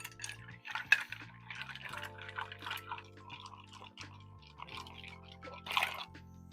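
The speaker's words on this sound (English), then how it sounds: "Stir this again." Soft clinking and light liquid swirling as ice is stirred in a Manhattan cocktail in a mixing glass, with a sharper tap near the end over a steady low hum.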